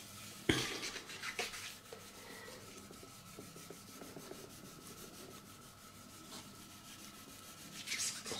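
Wet and dry sandpaper rubbing over the body of a Gibson Les Paul Studio guitar, a soft, steady scratchy friction close by, with a few sharper strokes near the start and end.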